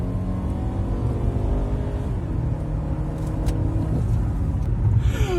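A 1500 cc turbocharged Mazda CX-5 in sport mode pulls hard from inside the cabin, a steady loud engine rumble with rising revs and road roar, running continuously with no talk.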